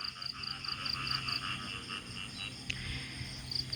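Frogs croak in a durian orchard, a steady near chorus of pulsing calls layered over continuous insect chirring, with no voices.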